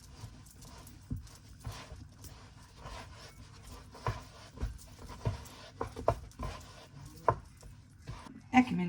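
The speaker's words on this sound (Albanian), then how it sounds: "E kemi ngjesh brumin mirë." Bread dough kneaded by hand in a bowl, soft irregular thumps and pressing slaps repeating close by, with quiet rustles between them and no talking.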